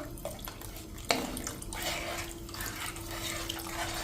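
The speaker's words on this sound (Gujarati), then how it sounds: "હજી મને થોડુંક થીક લાગે છે એટલે વધારે પાણી નાખું છું" Water poured into simmering ras pav gravy, a faint liquid trickle and splash with a soft clink, heard alone at low level.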